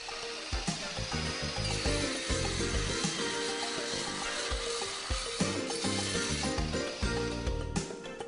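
Power saw fitted with a hard-alloy steel cutting blade working through material, a dense continuous grinding whir with rhythmic knocking pulses throughout.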